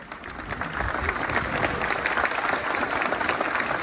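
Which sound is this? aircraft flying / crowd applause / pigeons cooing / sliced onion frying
crowd applause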